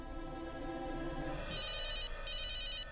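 Telephone ringing as a call is placed in a Hindi TV drama, with a repeating electronic ringtone pattern that starts partway through, following a brief musical underscore, close and clear with no talking.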